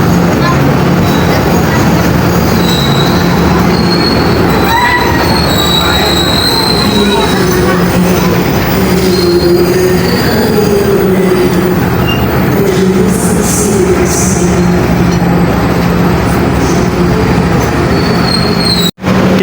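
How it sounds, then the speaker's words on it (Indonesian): A Garut commuter line train sits loudly at a platform of Bandung station, its rumble and hiss filling the air with a few squealing tones and brief clatter throughout. "perjalanan kereta api komuter lain Garut sudah masuk dan berhenti di jalur 1 stasiun Bandung"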